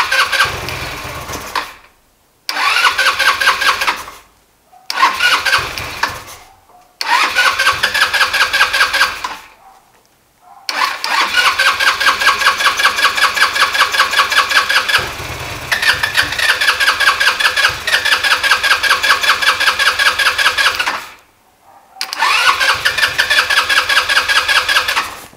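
A car engine with a loose, disconnected fuel hose is cranked and started repeatedly, each time revving up loudly with a rough, surging roar before cutting out in short silent gaps, several cycles in a row.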